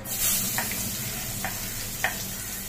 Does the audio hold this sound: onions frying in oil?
yes